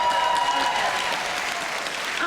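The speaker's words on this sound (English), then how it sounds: "Give yourselves a big round of applause." A Comic Con panel audience for the TV show Bones applauds, a steady, dense wash of clapping from a large crowd that holds at full strength throughout.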